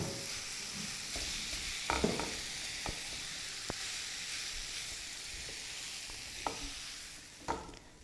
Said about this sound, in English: I'm going to add in the potatoes to this now